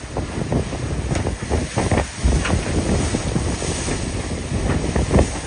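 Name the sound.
trade wind while sailing an IMOCA yacht at night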